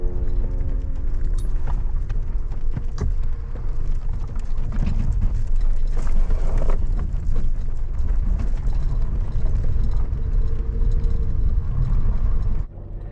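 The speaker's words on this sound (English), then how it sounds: "Let's get back in the truck and keep heading up the mountain" A pickup truck drives up a mountain road near a ghost town in Gilmore, Idaho, heard from inside or close by as a continuous loud rumble with rattling and bumping from the rough surface throughout.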